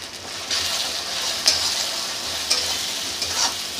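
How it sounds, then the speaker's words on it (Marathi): Spices, including red chili powder and turmeric, being stirred in a hot frying pan for veg dalcha, a steady close sizzle of frying with a few sharp spoon scrapes against the pan. "हलवून घेऊया."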